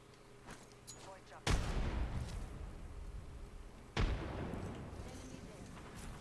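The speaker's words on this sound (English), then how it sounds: "Grenade out." Grenade explosion and gunfire in a first-person shooter video game: two heavy booming blasts with rumbling tails, several seconds apart, over quieter background game sounds.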